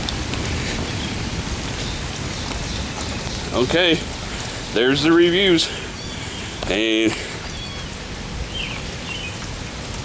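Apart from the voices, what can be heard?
heavy rain pouring down on a flooded driveway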